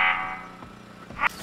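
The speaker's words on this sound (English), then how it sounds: "I have a switch wired into the wall and up to these little speaker systems up here that sound an alarm for attacking zombies" An alarm rigged to speakers in the 7 Days to Die video game, warning of attacking zombies, gives a short, fairly loud tonal blare at the start that fades out, then a second brief burst near the end.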